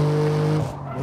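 Tires on a BMW M4 G82 Competition squeal and skid under late braking on the Nordschleife in Assetto Corsa, a loud sustained screech over the engine note that breaks up near the end.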